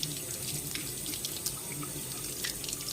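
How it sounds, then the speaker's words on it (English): Fresh thyme is rinsed under a running kitchen tap, giving a steady splashing stream with small irregular spatters as the sprigs are moved under the flow. "So wash that thyme off."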